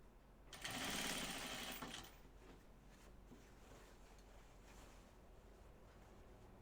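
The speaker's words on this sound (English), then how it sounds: "And then sew it with your seam allowance." A sewing machine stitching the seam of pajama bottoms, a fast, even whirring hum of the needle running for about a second and a half, then stopping, leaving a quiet room with faint handling sounds.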